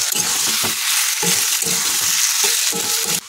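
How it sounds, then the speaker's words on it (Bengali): Chicken kosha frying over a high gas flame, a loud continuous sizzle broken by repeated scraping and stirring strokes in the pan, close up with no voices. "এবার গ্যাসের ফ্লেমটা একটু হাই করে দিয়ে 5 মিনিটের মতো আমি এটাকে কষাবো ভালো করে।"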